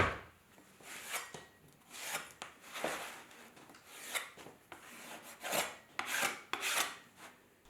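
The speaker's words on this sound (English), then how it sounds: "the scraping of the bats, well, that's got to be everybody's favourite" Tools scraping leather-hard clay from pottery bats, a series of close rasping strokes in an uneven rhythm, each rising and fading, with no talking.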